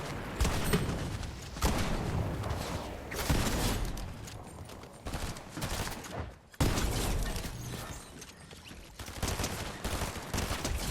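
Bursts of SMG gunfire in Fortnite Chapter 5 Season 1, several rapid volleys separated by short pauses, fairly loud and close with game ambience between.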